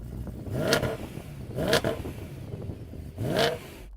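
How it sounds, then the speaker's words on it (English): An old BMW M3 engine revs three times in sharp, evenly spaced bursts, each climbing and falling quickly against a steady idle, heard from a short distance with no talking. "let's have a listen to the old M3."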